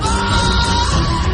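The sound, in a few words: ear-splitting scream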